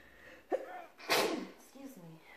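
A single sharp sneeze after a short intake of breath, with quiet voices speaking softly around it.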